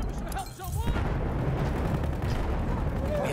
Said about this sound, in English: One frag grenade took all of us out?